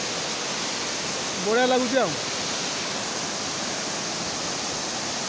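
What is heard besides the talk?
Budingalu waterfall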